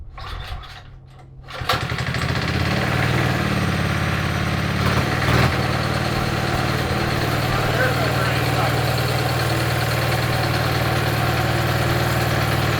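A vintage Bonanza mini bike's small engine is started after a brief quiet moment, then settles into a loud, steady idle that runs on continuously.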